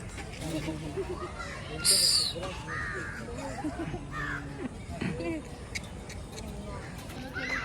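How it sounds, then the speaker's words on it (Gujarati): Several crows caw at intervals over a busy outdoor zoo background with people talking nearby; one louder, harsh call stands out near the middle. "આ છે કાગડા."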